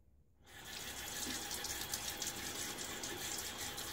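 Water running from a tap while rinsing during a wet shave with a Gillette Silver Blue blade in a Stirling D-503 razor, a steady close hiss of flowing water that starts suddenly and keeps going.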